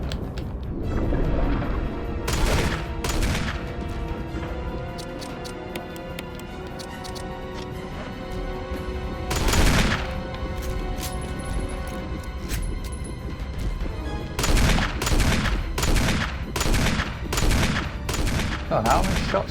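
Barry fires a series of gunshots in the Resident Evil HD Remake, several sharp separate reports spaced out across the stretch, with clustered shots near the end over a low game backdrop.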